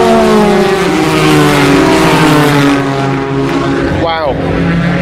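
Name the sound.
race cars passing at a motor race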